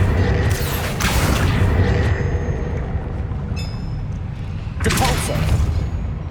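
In Hogwarts Legacy, the Accio spell fires with a loud magical whoosh and rumble over a constant dense game soundscape, with a second bright burst swelling near the end.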